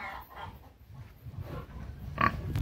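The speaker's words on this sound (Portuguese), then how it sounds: "Aqui tem dois porquinhos." Farm-raised free-range pigs grunting and snorting close by in a pen, a few short irregular grunts and snuffles with a sharper squeal-like burst near the end, no speech.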